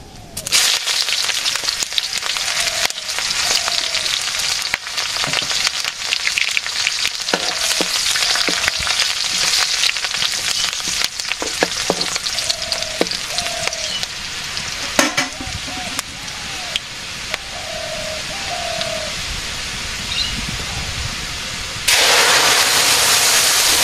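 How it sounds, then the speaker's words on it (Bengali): Dal being tempered in a village kitchen, spices sizzling and crackling steadily in hot oil at close range for a long stretch, with scattered clinks and knocks and a louder hiss surge near the end. "ডাল সম্বার দিয়ে নেই"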